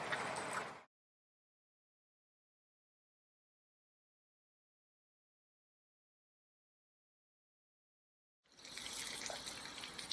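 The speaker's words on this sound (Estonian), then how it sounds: "tundub, et kuskilt on midagi siis lahti läinud, sellepärast et meil lendab katuse peale see vesi" Water sprays from a broken garden watering pipe and splashes onto a house roof during rain. The splashing comes in two short bursts, one at the very start and one near the end, with a long stretch of silence between them.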